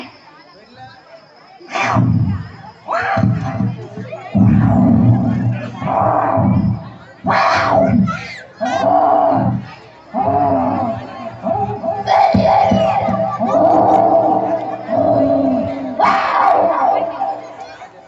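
A group of people at a Pongal celebration imitate a baby gorilla's cry, loud hooting, shrieking bursts in repeated waves with short pauses, crowd voices and laughter around them.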